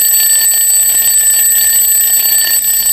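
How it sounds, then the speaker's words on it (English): An alarm clock rings loud and continuous, a steady shrill high-pitched tone that holds unbroken throughout with no speech. "After the alarm rang,"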